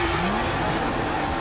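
A Porsche engine revs in GTA V, a brief, loud and steady motor roar with a rising whine, heard close for just over a second.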